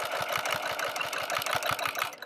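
Sewing machine fitted with a walking foot stitching through quilt layers, a fast steady mechanical rhythm of needle strokes running continuously at close range.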